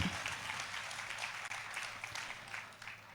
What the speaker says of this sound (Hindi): अब तालियों में तब्दील करके मुझे स्वीकृति दे दीजिए।